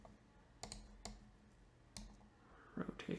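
A computer mouse is clicked while working in 3D design software: a few sharp, close, isolated clicks spaced irregularly, with a quick cluster of small ticks near the end.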